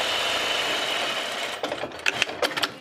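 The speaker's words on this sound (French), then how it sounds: "je viens piquer sur un des bords" Sewing machine stitching lining fabric along one edge at a 1 cm seam, a steady close whirring hum for about a second and a half, then stopping into a few soft handling clicks and rustles.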